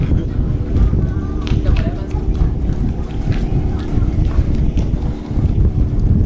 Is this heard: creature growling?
no